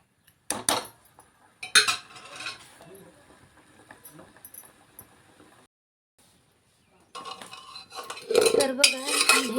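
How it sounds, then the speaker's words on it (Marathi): A spoon scrapes and clatters in a pan while cooked tur bean usal is stirred and sautéed, with loud metallic knocks in bursts, a quiet pause, then a busier stretch of scraping. "हा जो उसळ शिजवलेला आहे हा परतून घेऊ"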